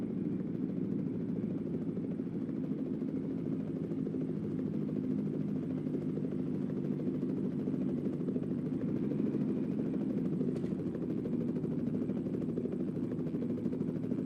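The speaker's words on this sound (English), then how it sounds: "That's a heck of a lot of noise over there, you helicopter. Hey, are you landing or not?" A helicopter hovers and flies nearby in American Truck Simulator near an airport, its steady rotor and engine drone loud and continuous, with no talk.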